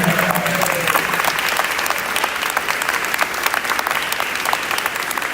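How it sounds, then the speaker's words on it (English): A crowd claps steadily for several seconds, dense and fairly loud applause with no break. "Let's give you a round of applause."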